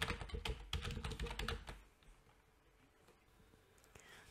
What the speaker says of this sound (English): then start typing the next line of text